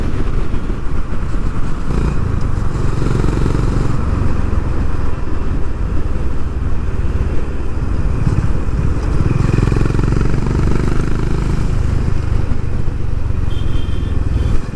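Honda H'ness CB350 motorcycle engine thrums steadily at close range while riding, a continuous loud low rumble with road and wind noise throughout and no talk.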